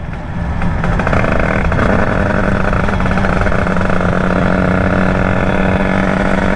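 A tuned 1996 Derbi moped with a Bidalot WR kit, revving hard, its two-stroke engine loud and close throughout, a steady dense buzz that holds near full throttle without any talk over it.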